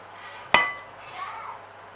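Toasted almonds are tipped into a mixing bowl for a coffee and almond slice, giving one sharp clink followed by a faint rattle.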